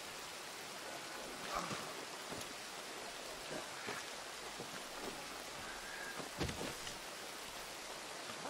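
Steady rain pours in the Red Dead Redemption 2 video game, a dense even hiss with scattered louder drops and splashes, heard alone without talk.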